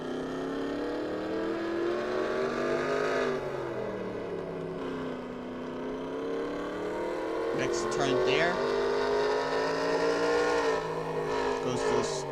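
NASCAR stock car in NASCAR Racing 2003 on a Mid-Ohio road course, engine climbing in pitch under acceleration, then dropping sharply as it brakes hard for a turn near 170 mph and revs back up, while a voice talks briefly over it.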